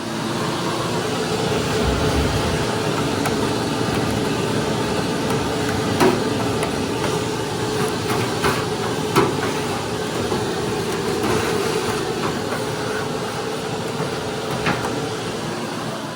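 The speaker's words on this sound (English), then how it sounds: "Now we're gonna hit it with the vacuum." A vacuum cleaner runs steadily while cleaning out a Samsung dryer, a loud continuous whooshing motor drone with faint occasional knocks and rattles.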